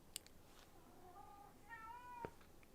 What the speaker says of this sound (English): can you guys hear the cat there? It's probably too far away from the microphone.